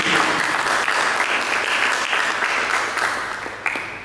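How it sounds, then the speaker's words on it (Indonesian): A church congregation claps together during a sermon, a dense, steady burst of applause that fills the room for about four seconds and tapers slightly near the end. "Mari berikan tepuk tangan bagi"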